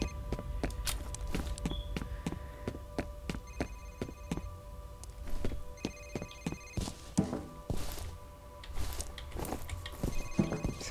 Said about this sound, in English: I hear a phone